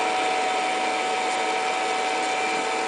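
Geared DC motor assembly for robotics whirring steadily at around 100 RPM, a continuous even hum with a sharp high tone, close and unbroken.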